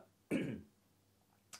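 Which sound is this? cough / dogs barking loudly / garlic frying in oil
cough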